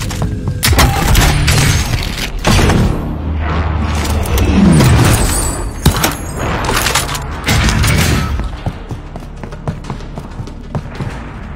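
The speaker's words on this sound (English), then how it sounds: "Be advised, friendly precision airstrike inbound." Precision airstrike explosions in Call of Duty Warzone: loud booms and thuds in a heavy cluster, with scattered gunfire crackling around them and a rumbling tail.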